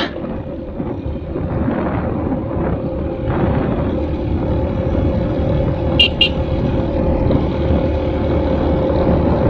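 A Kawasaki Barako 2 motorcycle engine drones and strains continuously climbing uphill on a paved road in Liliw, Laguna, under faint ambient noise, with a brief high metallic squeak partway through.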